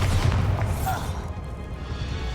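A Bombarda spell explodes in the video game Hogwarts Legacy: a loud, deep boom bursts at once, then fades into a lingering low rumble over about two seconds.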